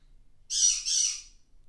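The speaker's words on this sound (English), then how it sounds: "Now the bird is squawking because my son just got a text message" A pet bird in its cage gives a shrill two-part squawk, close and piercing, against an otherwise quiet room.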